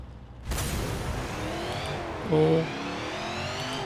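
A race car's engine from the video game Forza Motorsport 7 roars steadily and loud, rising in a brief surge of revving around the middle, with a short exclamation from a voice.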